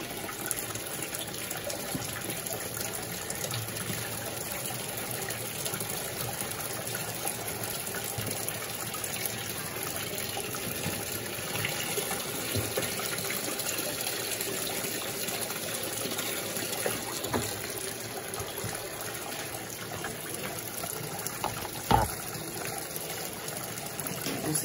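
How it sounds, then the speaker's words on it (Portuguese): Electrolux Blue Touch 12kg top-loading washing machine filling with water, a continuous steady gushing rush that stays loud and close for the whole stretch, with no voices. "Vai no baixo mesmo, ela vai ter que encher."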